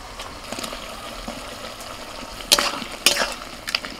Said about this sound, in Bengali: মশলার সাথে এবার আলুটাকেও 5 মিনিট কষিয়ে নেব।